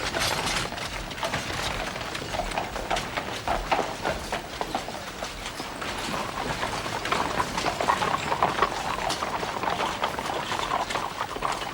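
A long procession of horse-drawn carts carrying wounded soldiers, many hooves clip-clopping continuously with wheels rattling, a dense steady mass of sound without talk in the 1972 War and Peace.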